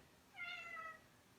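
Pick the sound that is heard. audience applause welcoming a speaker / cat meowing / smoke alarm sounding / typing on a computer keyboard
cat meowing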